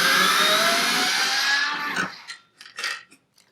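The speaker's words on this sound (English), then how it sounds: "I just need to get my power driver, and I'm going to remove these 4 hex bolts." Power driver whirring loudly as it backs out hex bolts on a Harley-Davidson Street Glide headlight, a sustained high-pitched spin that winds down, followed by a few short bursts.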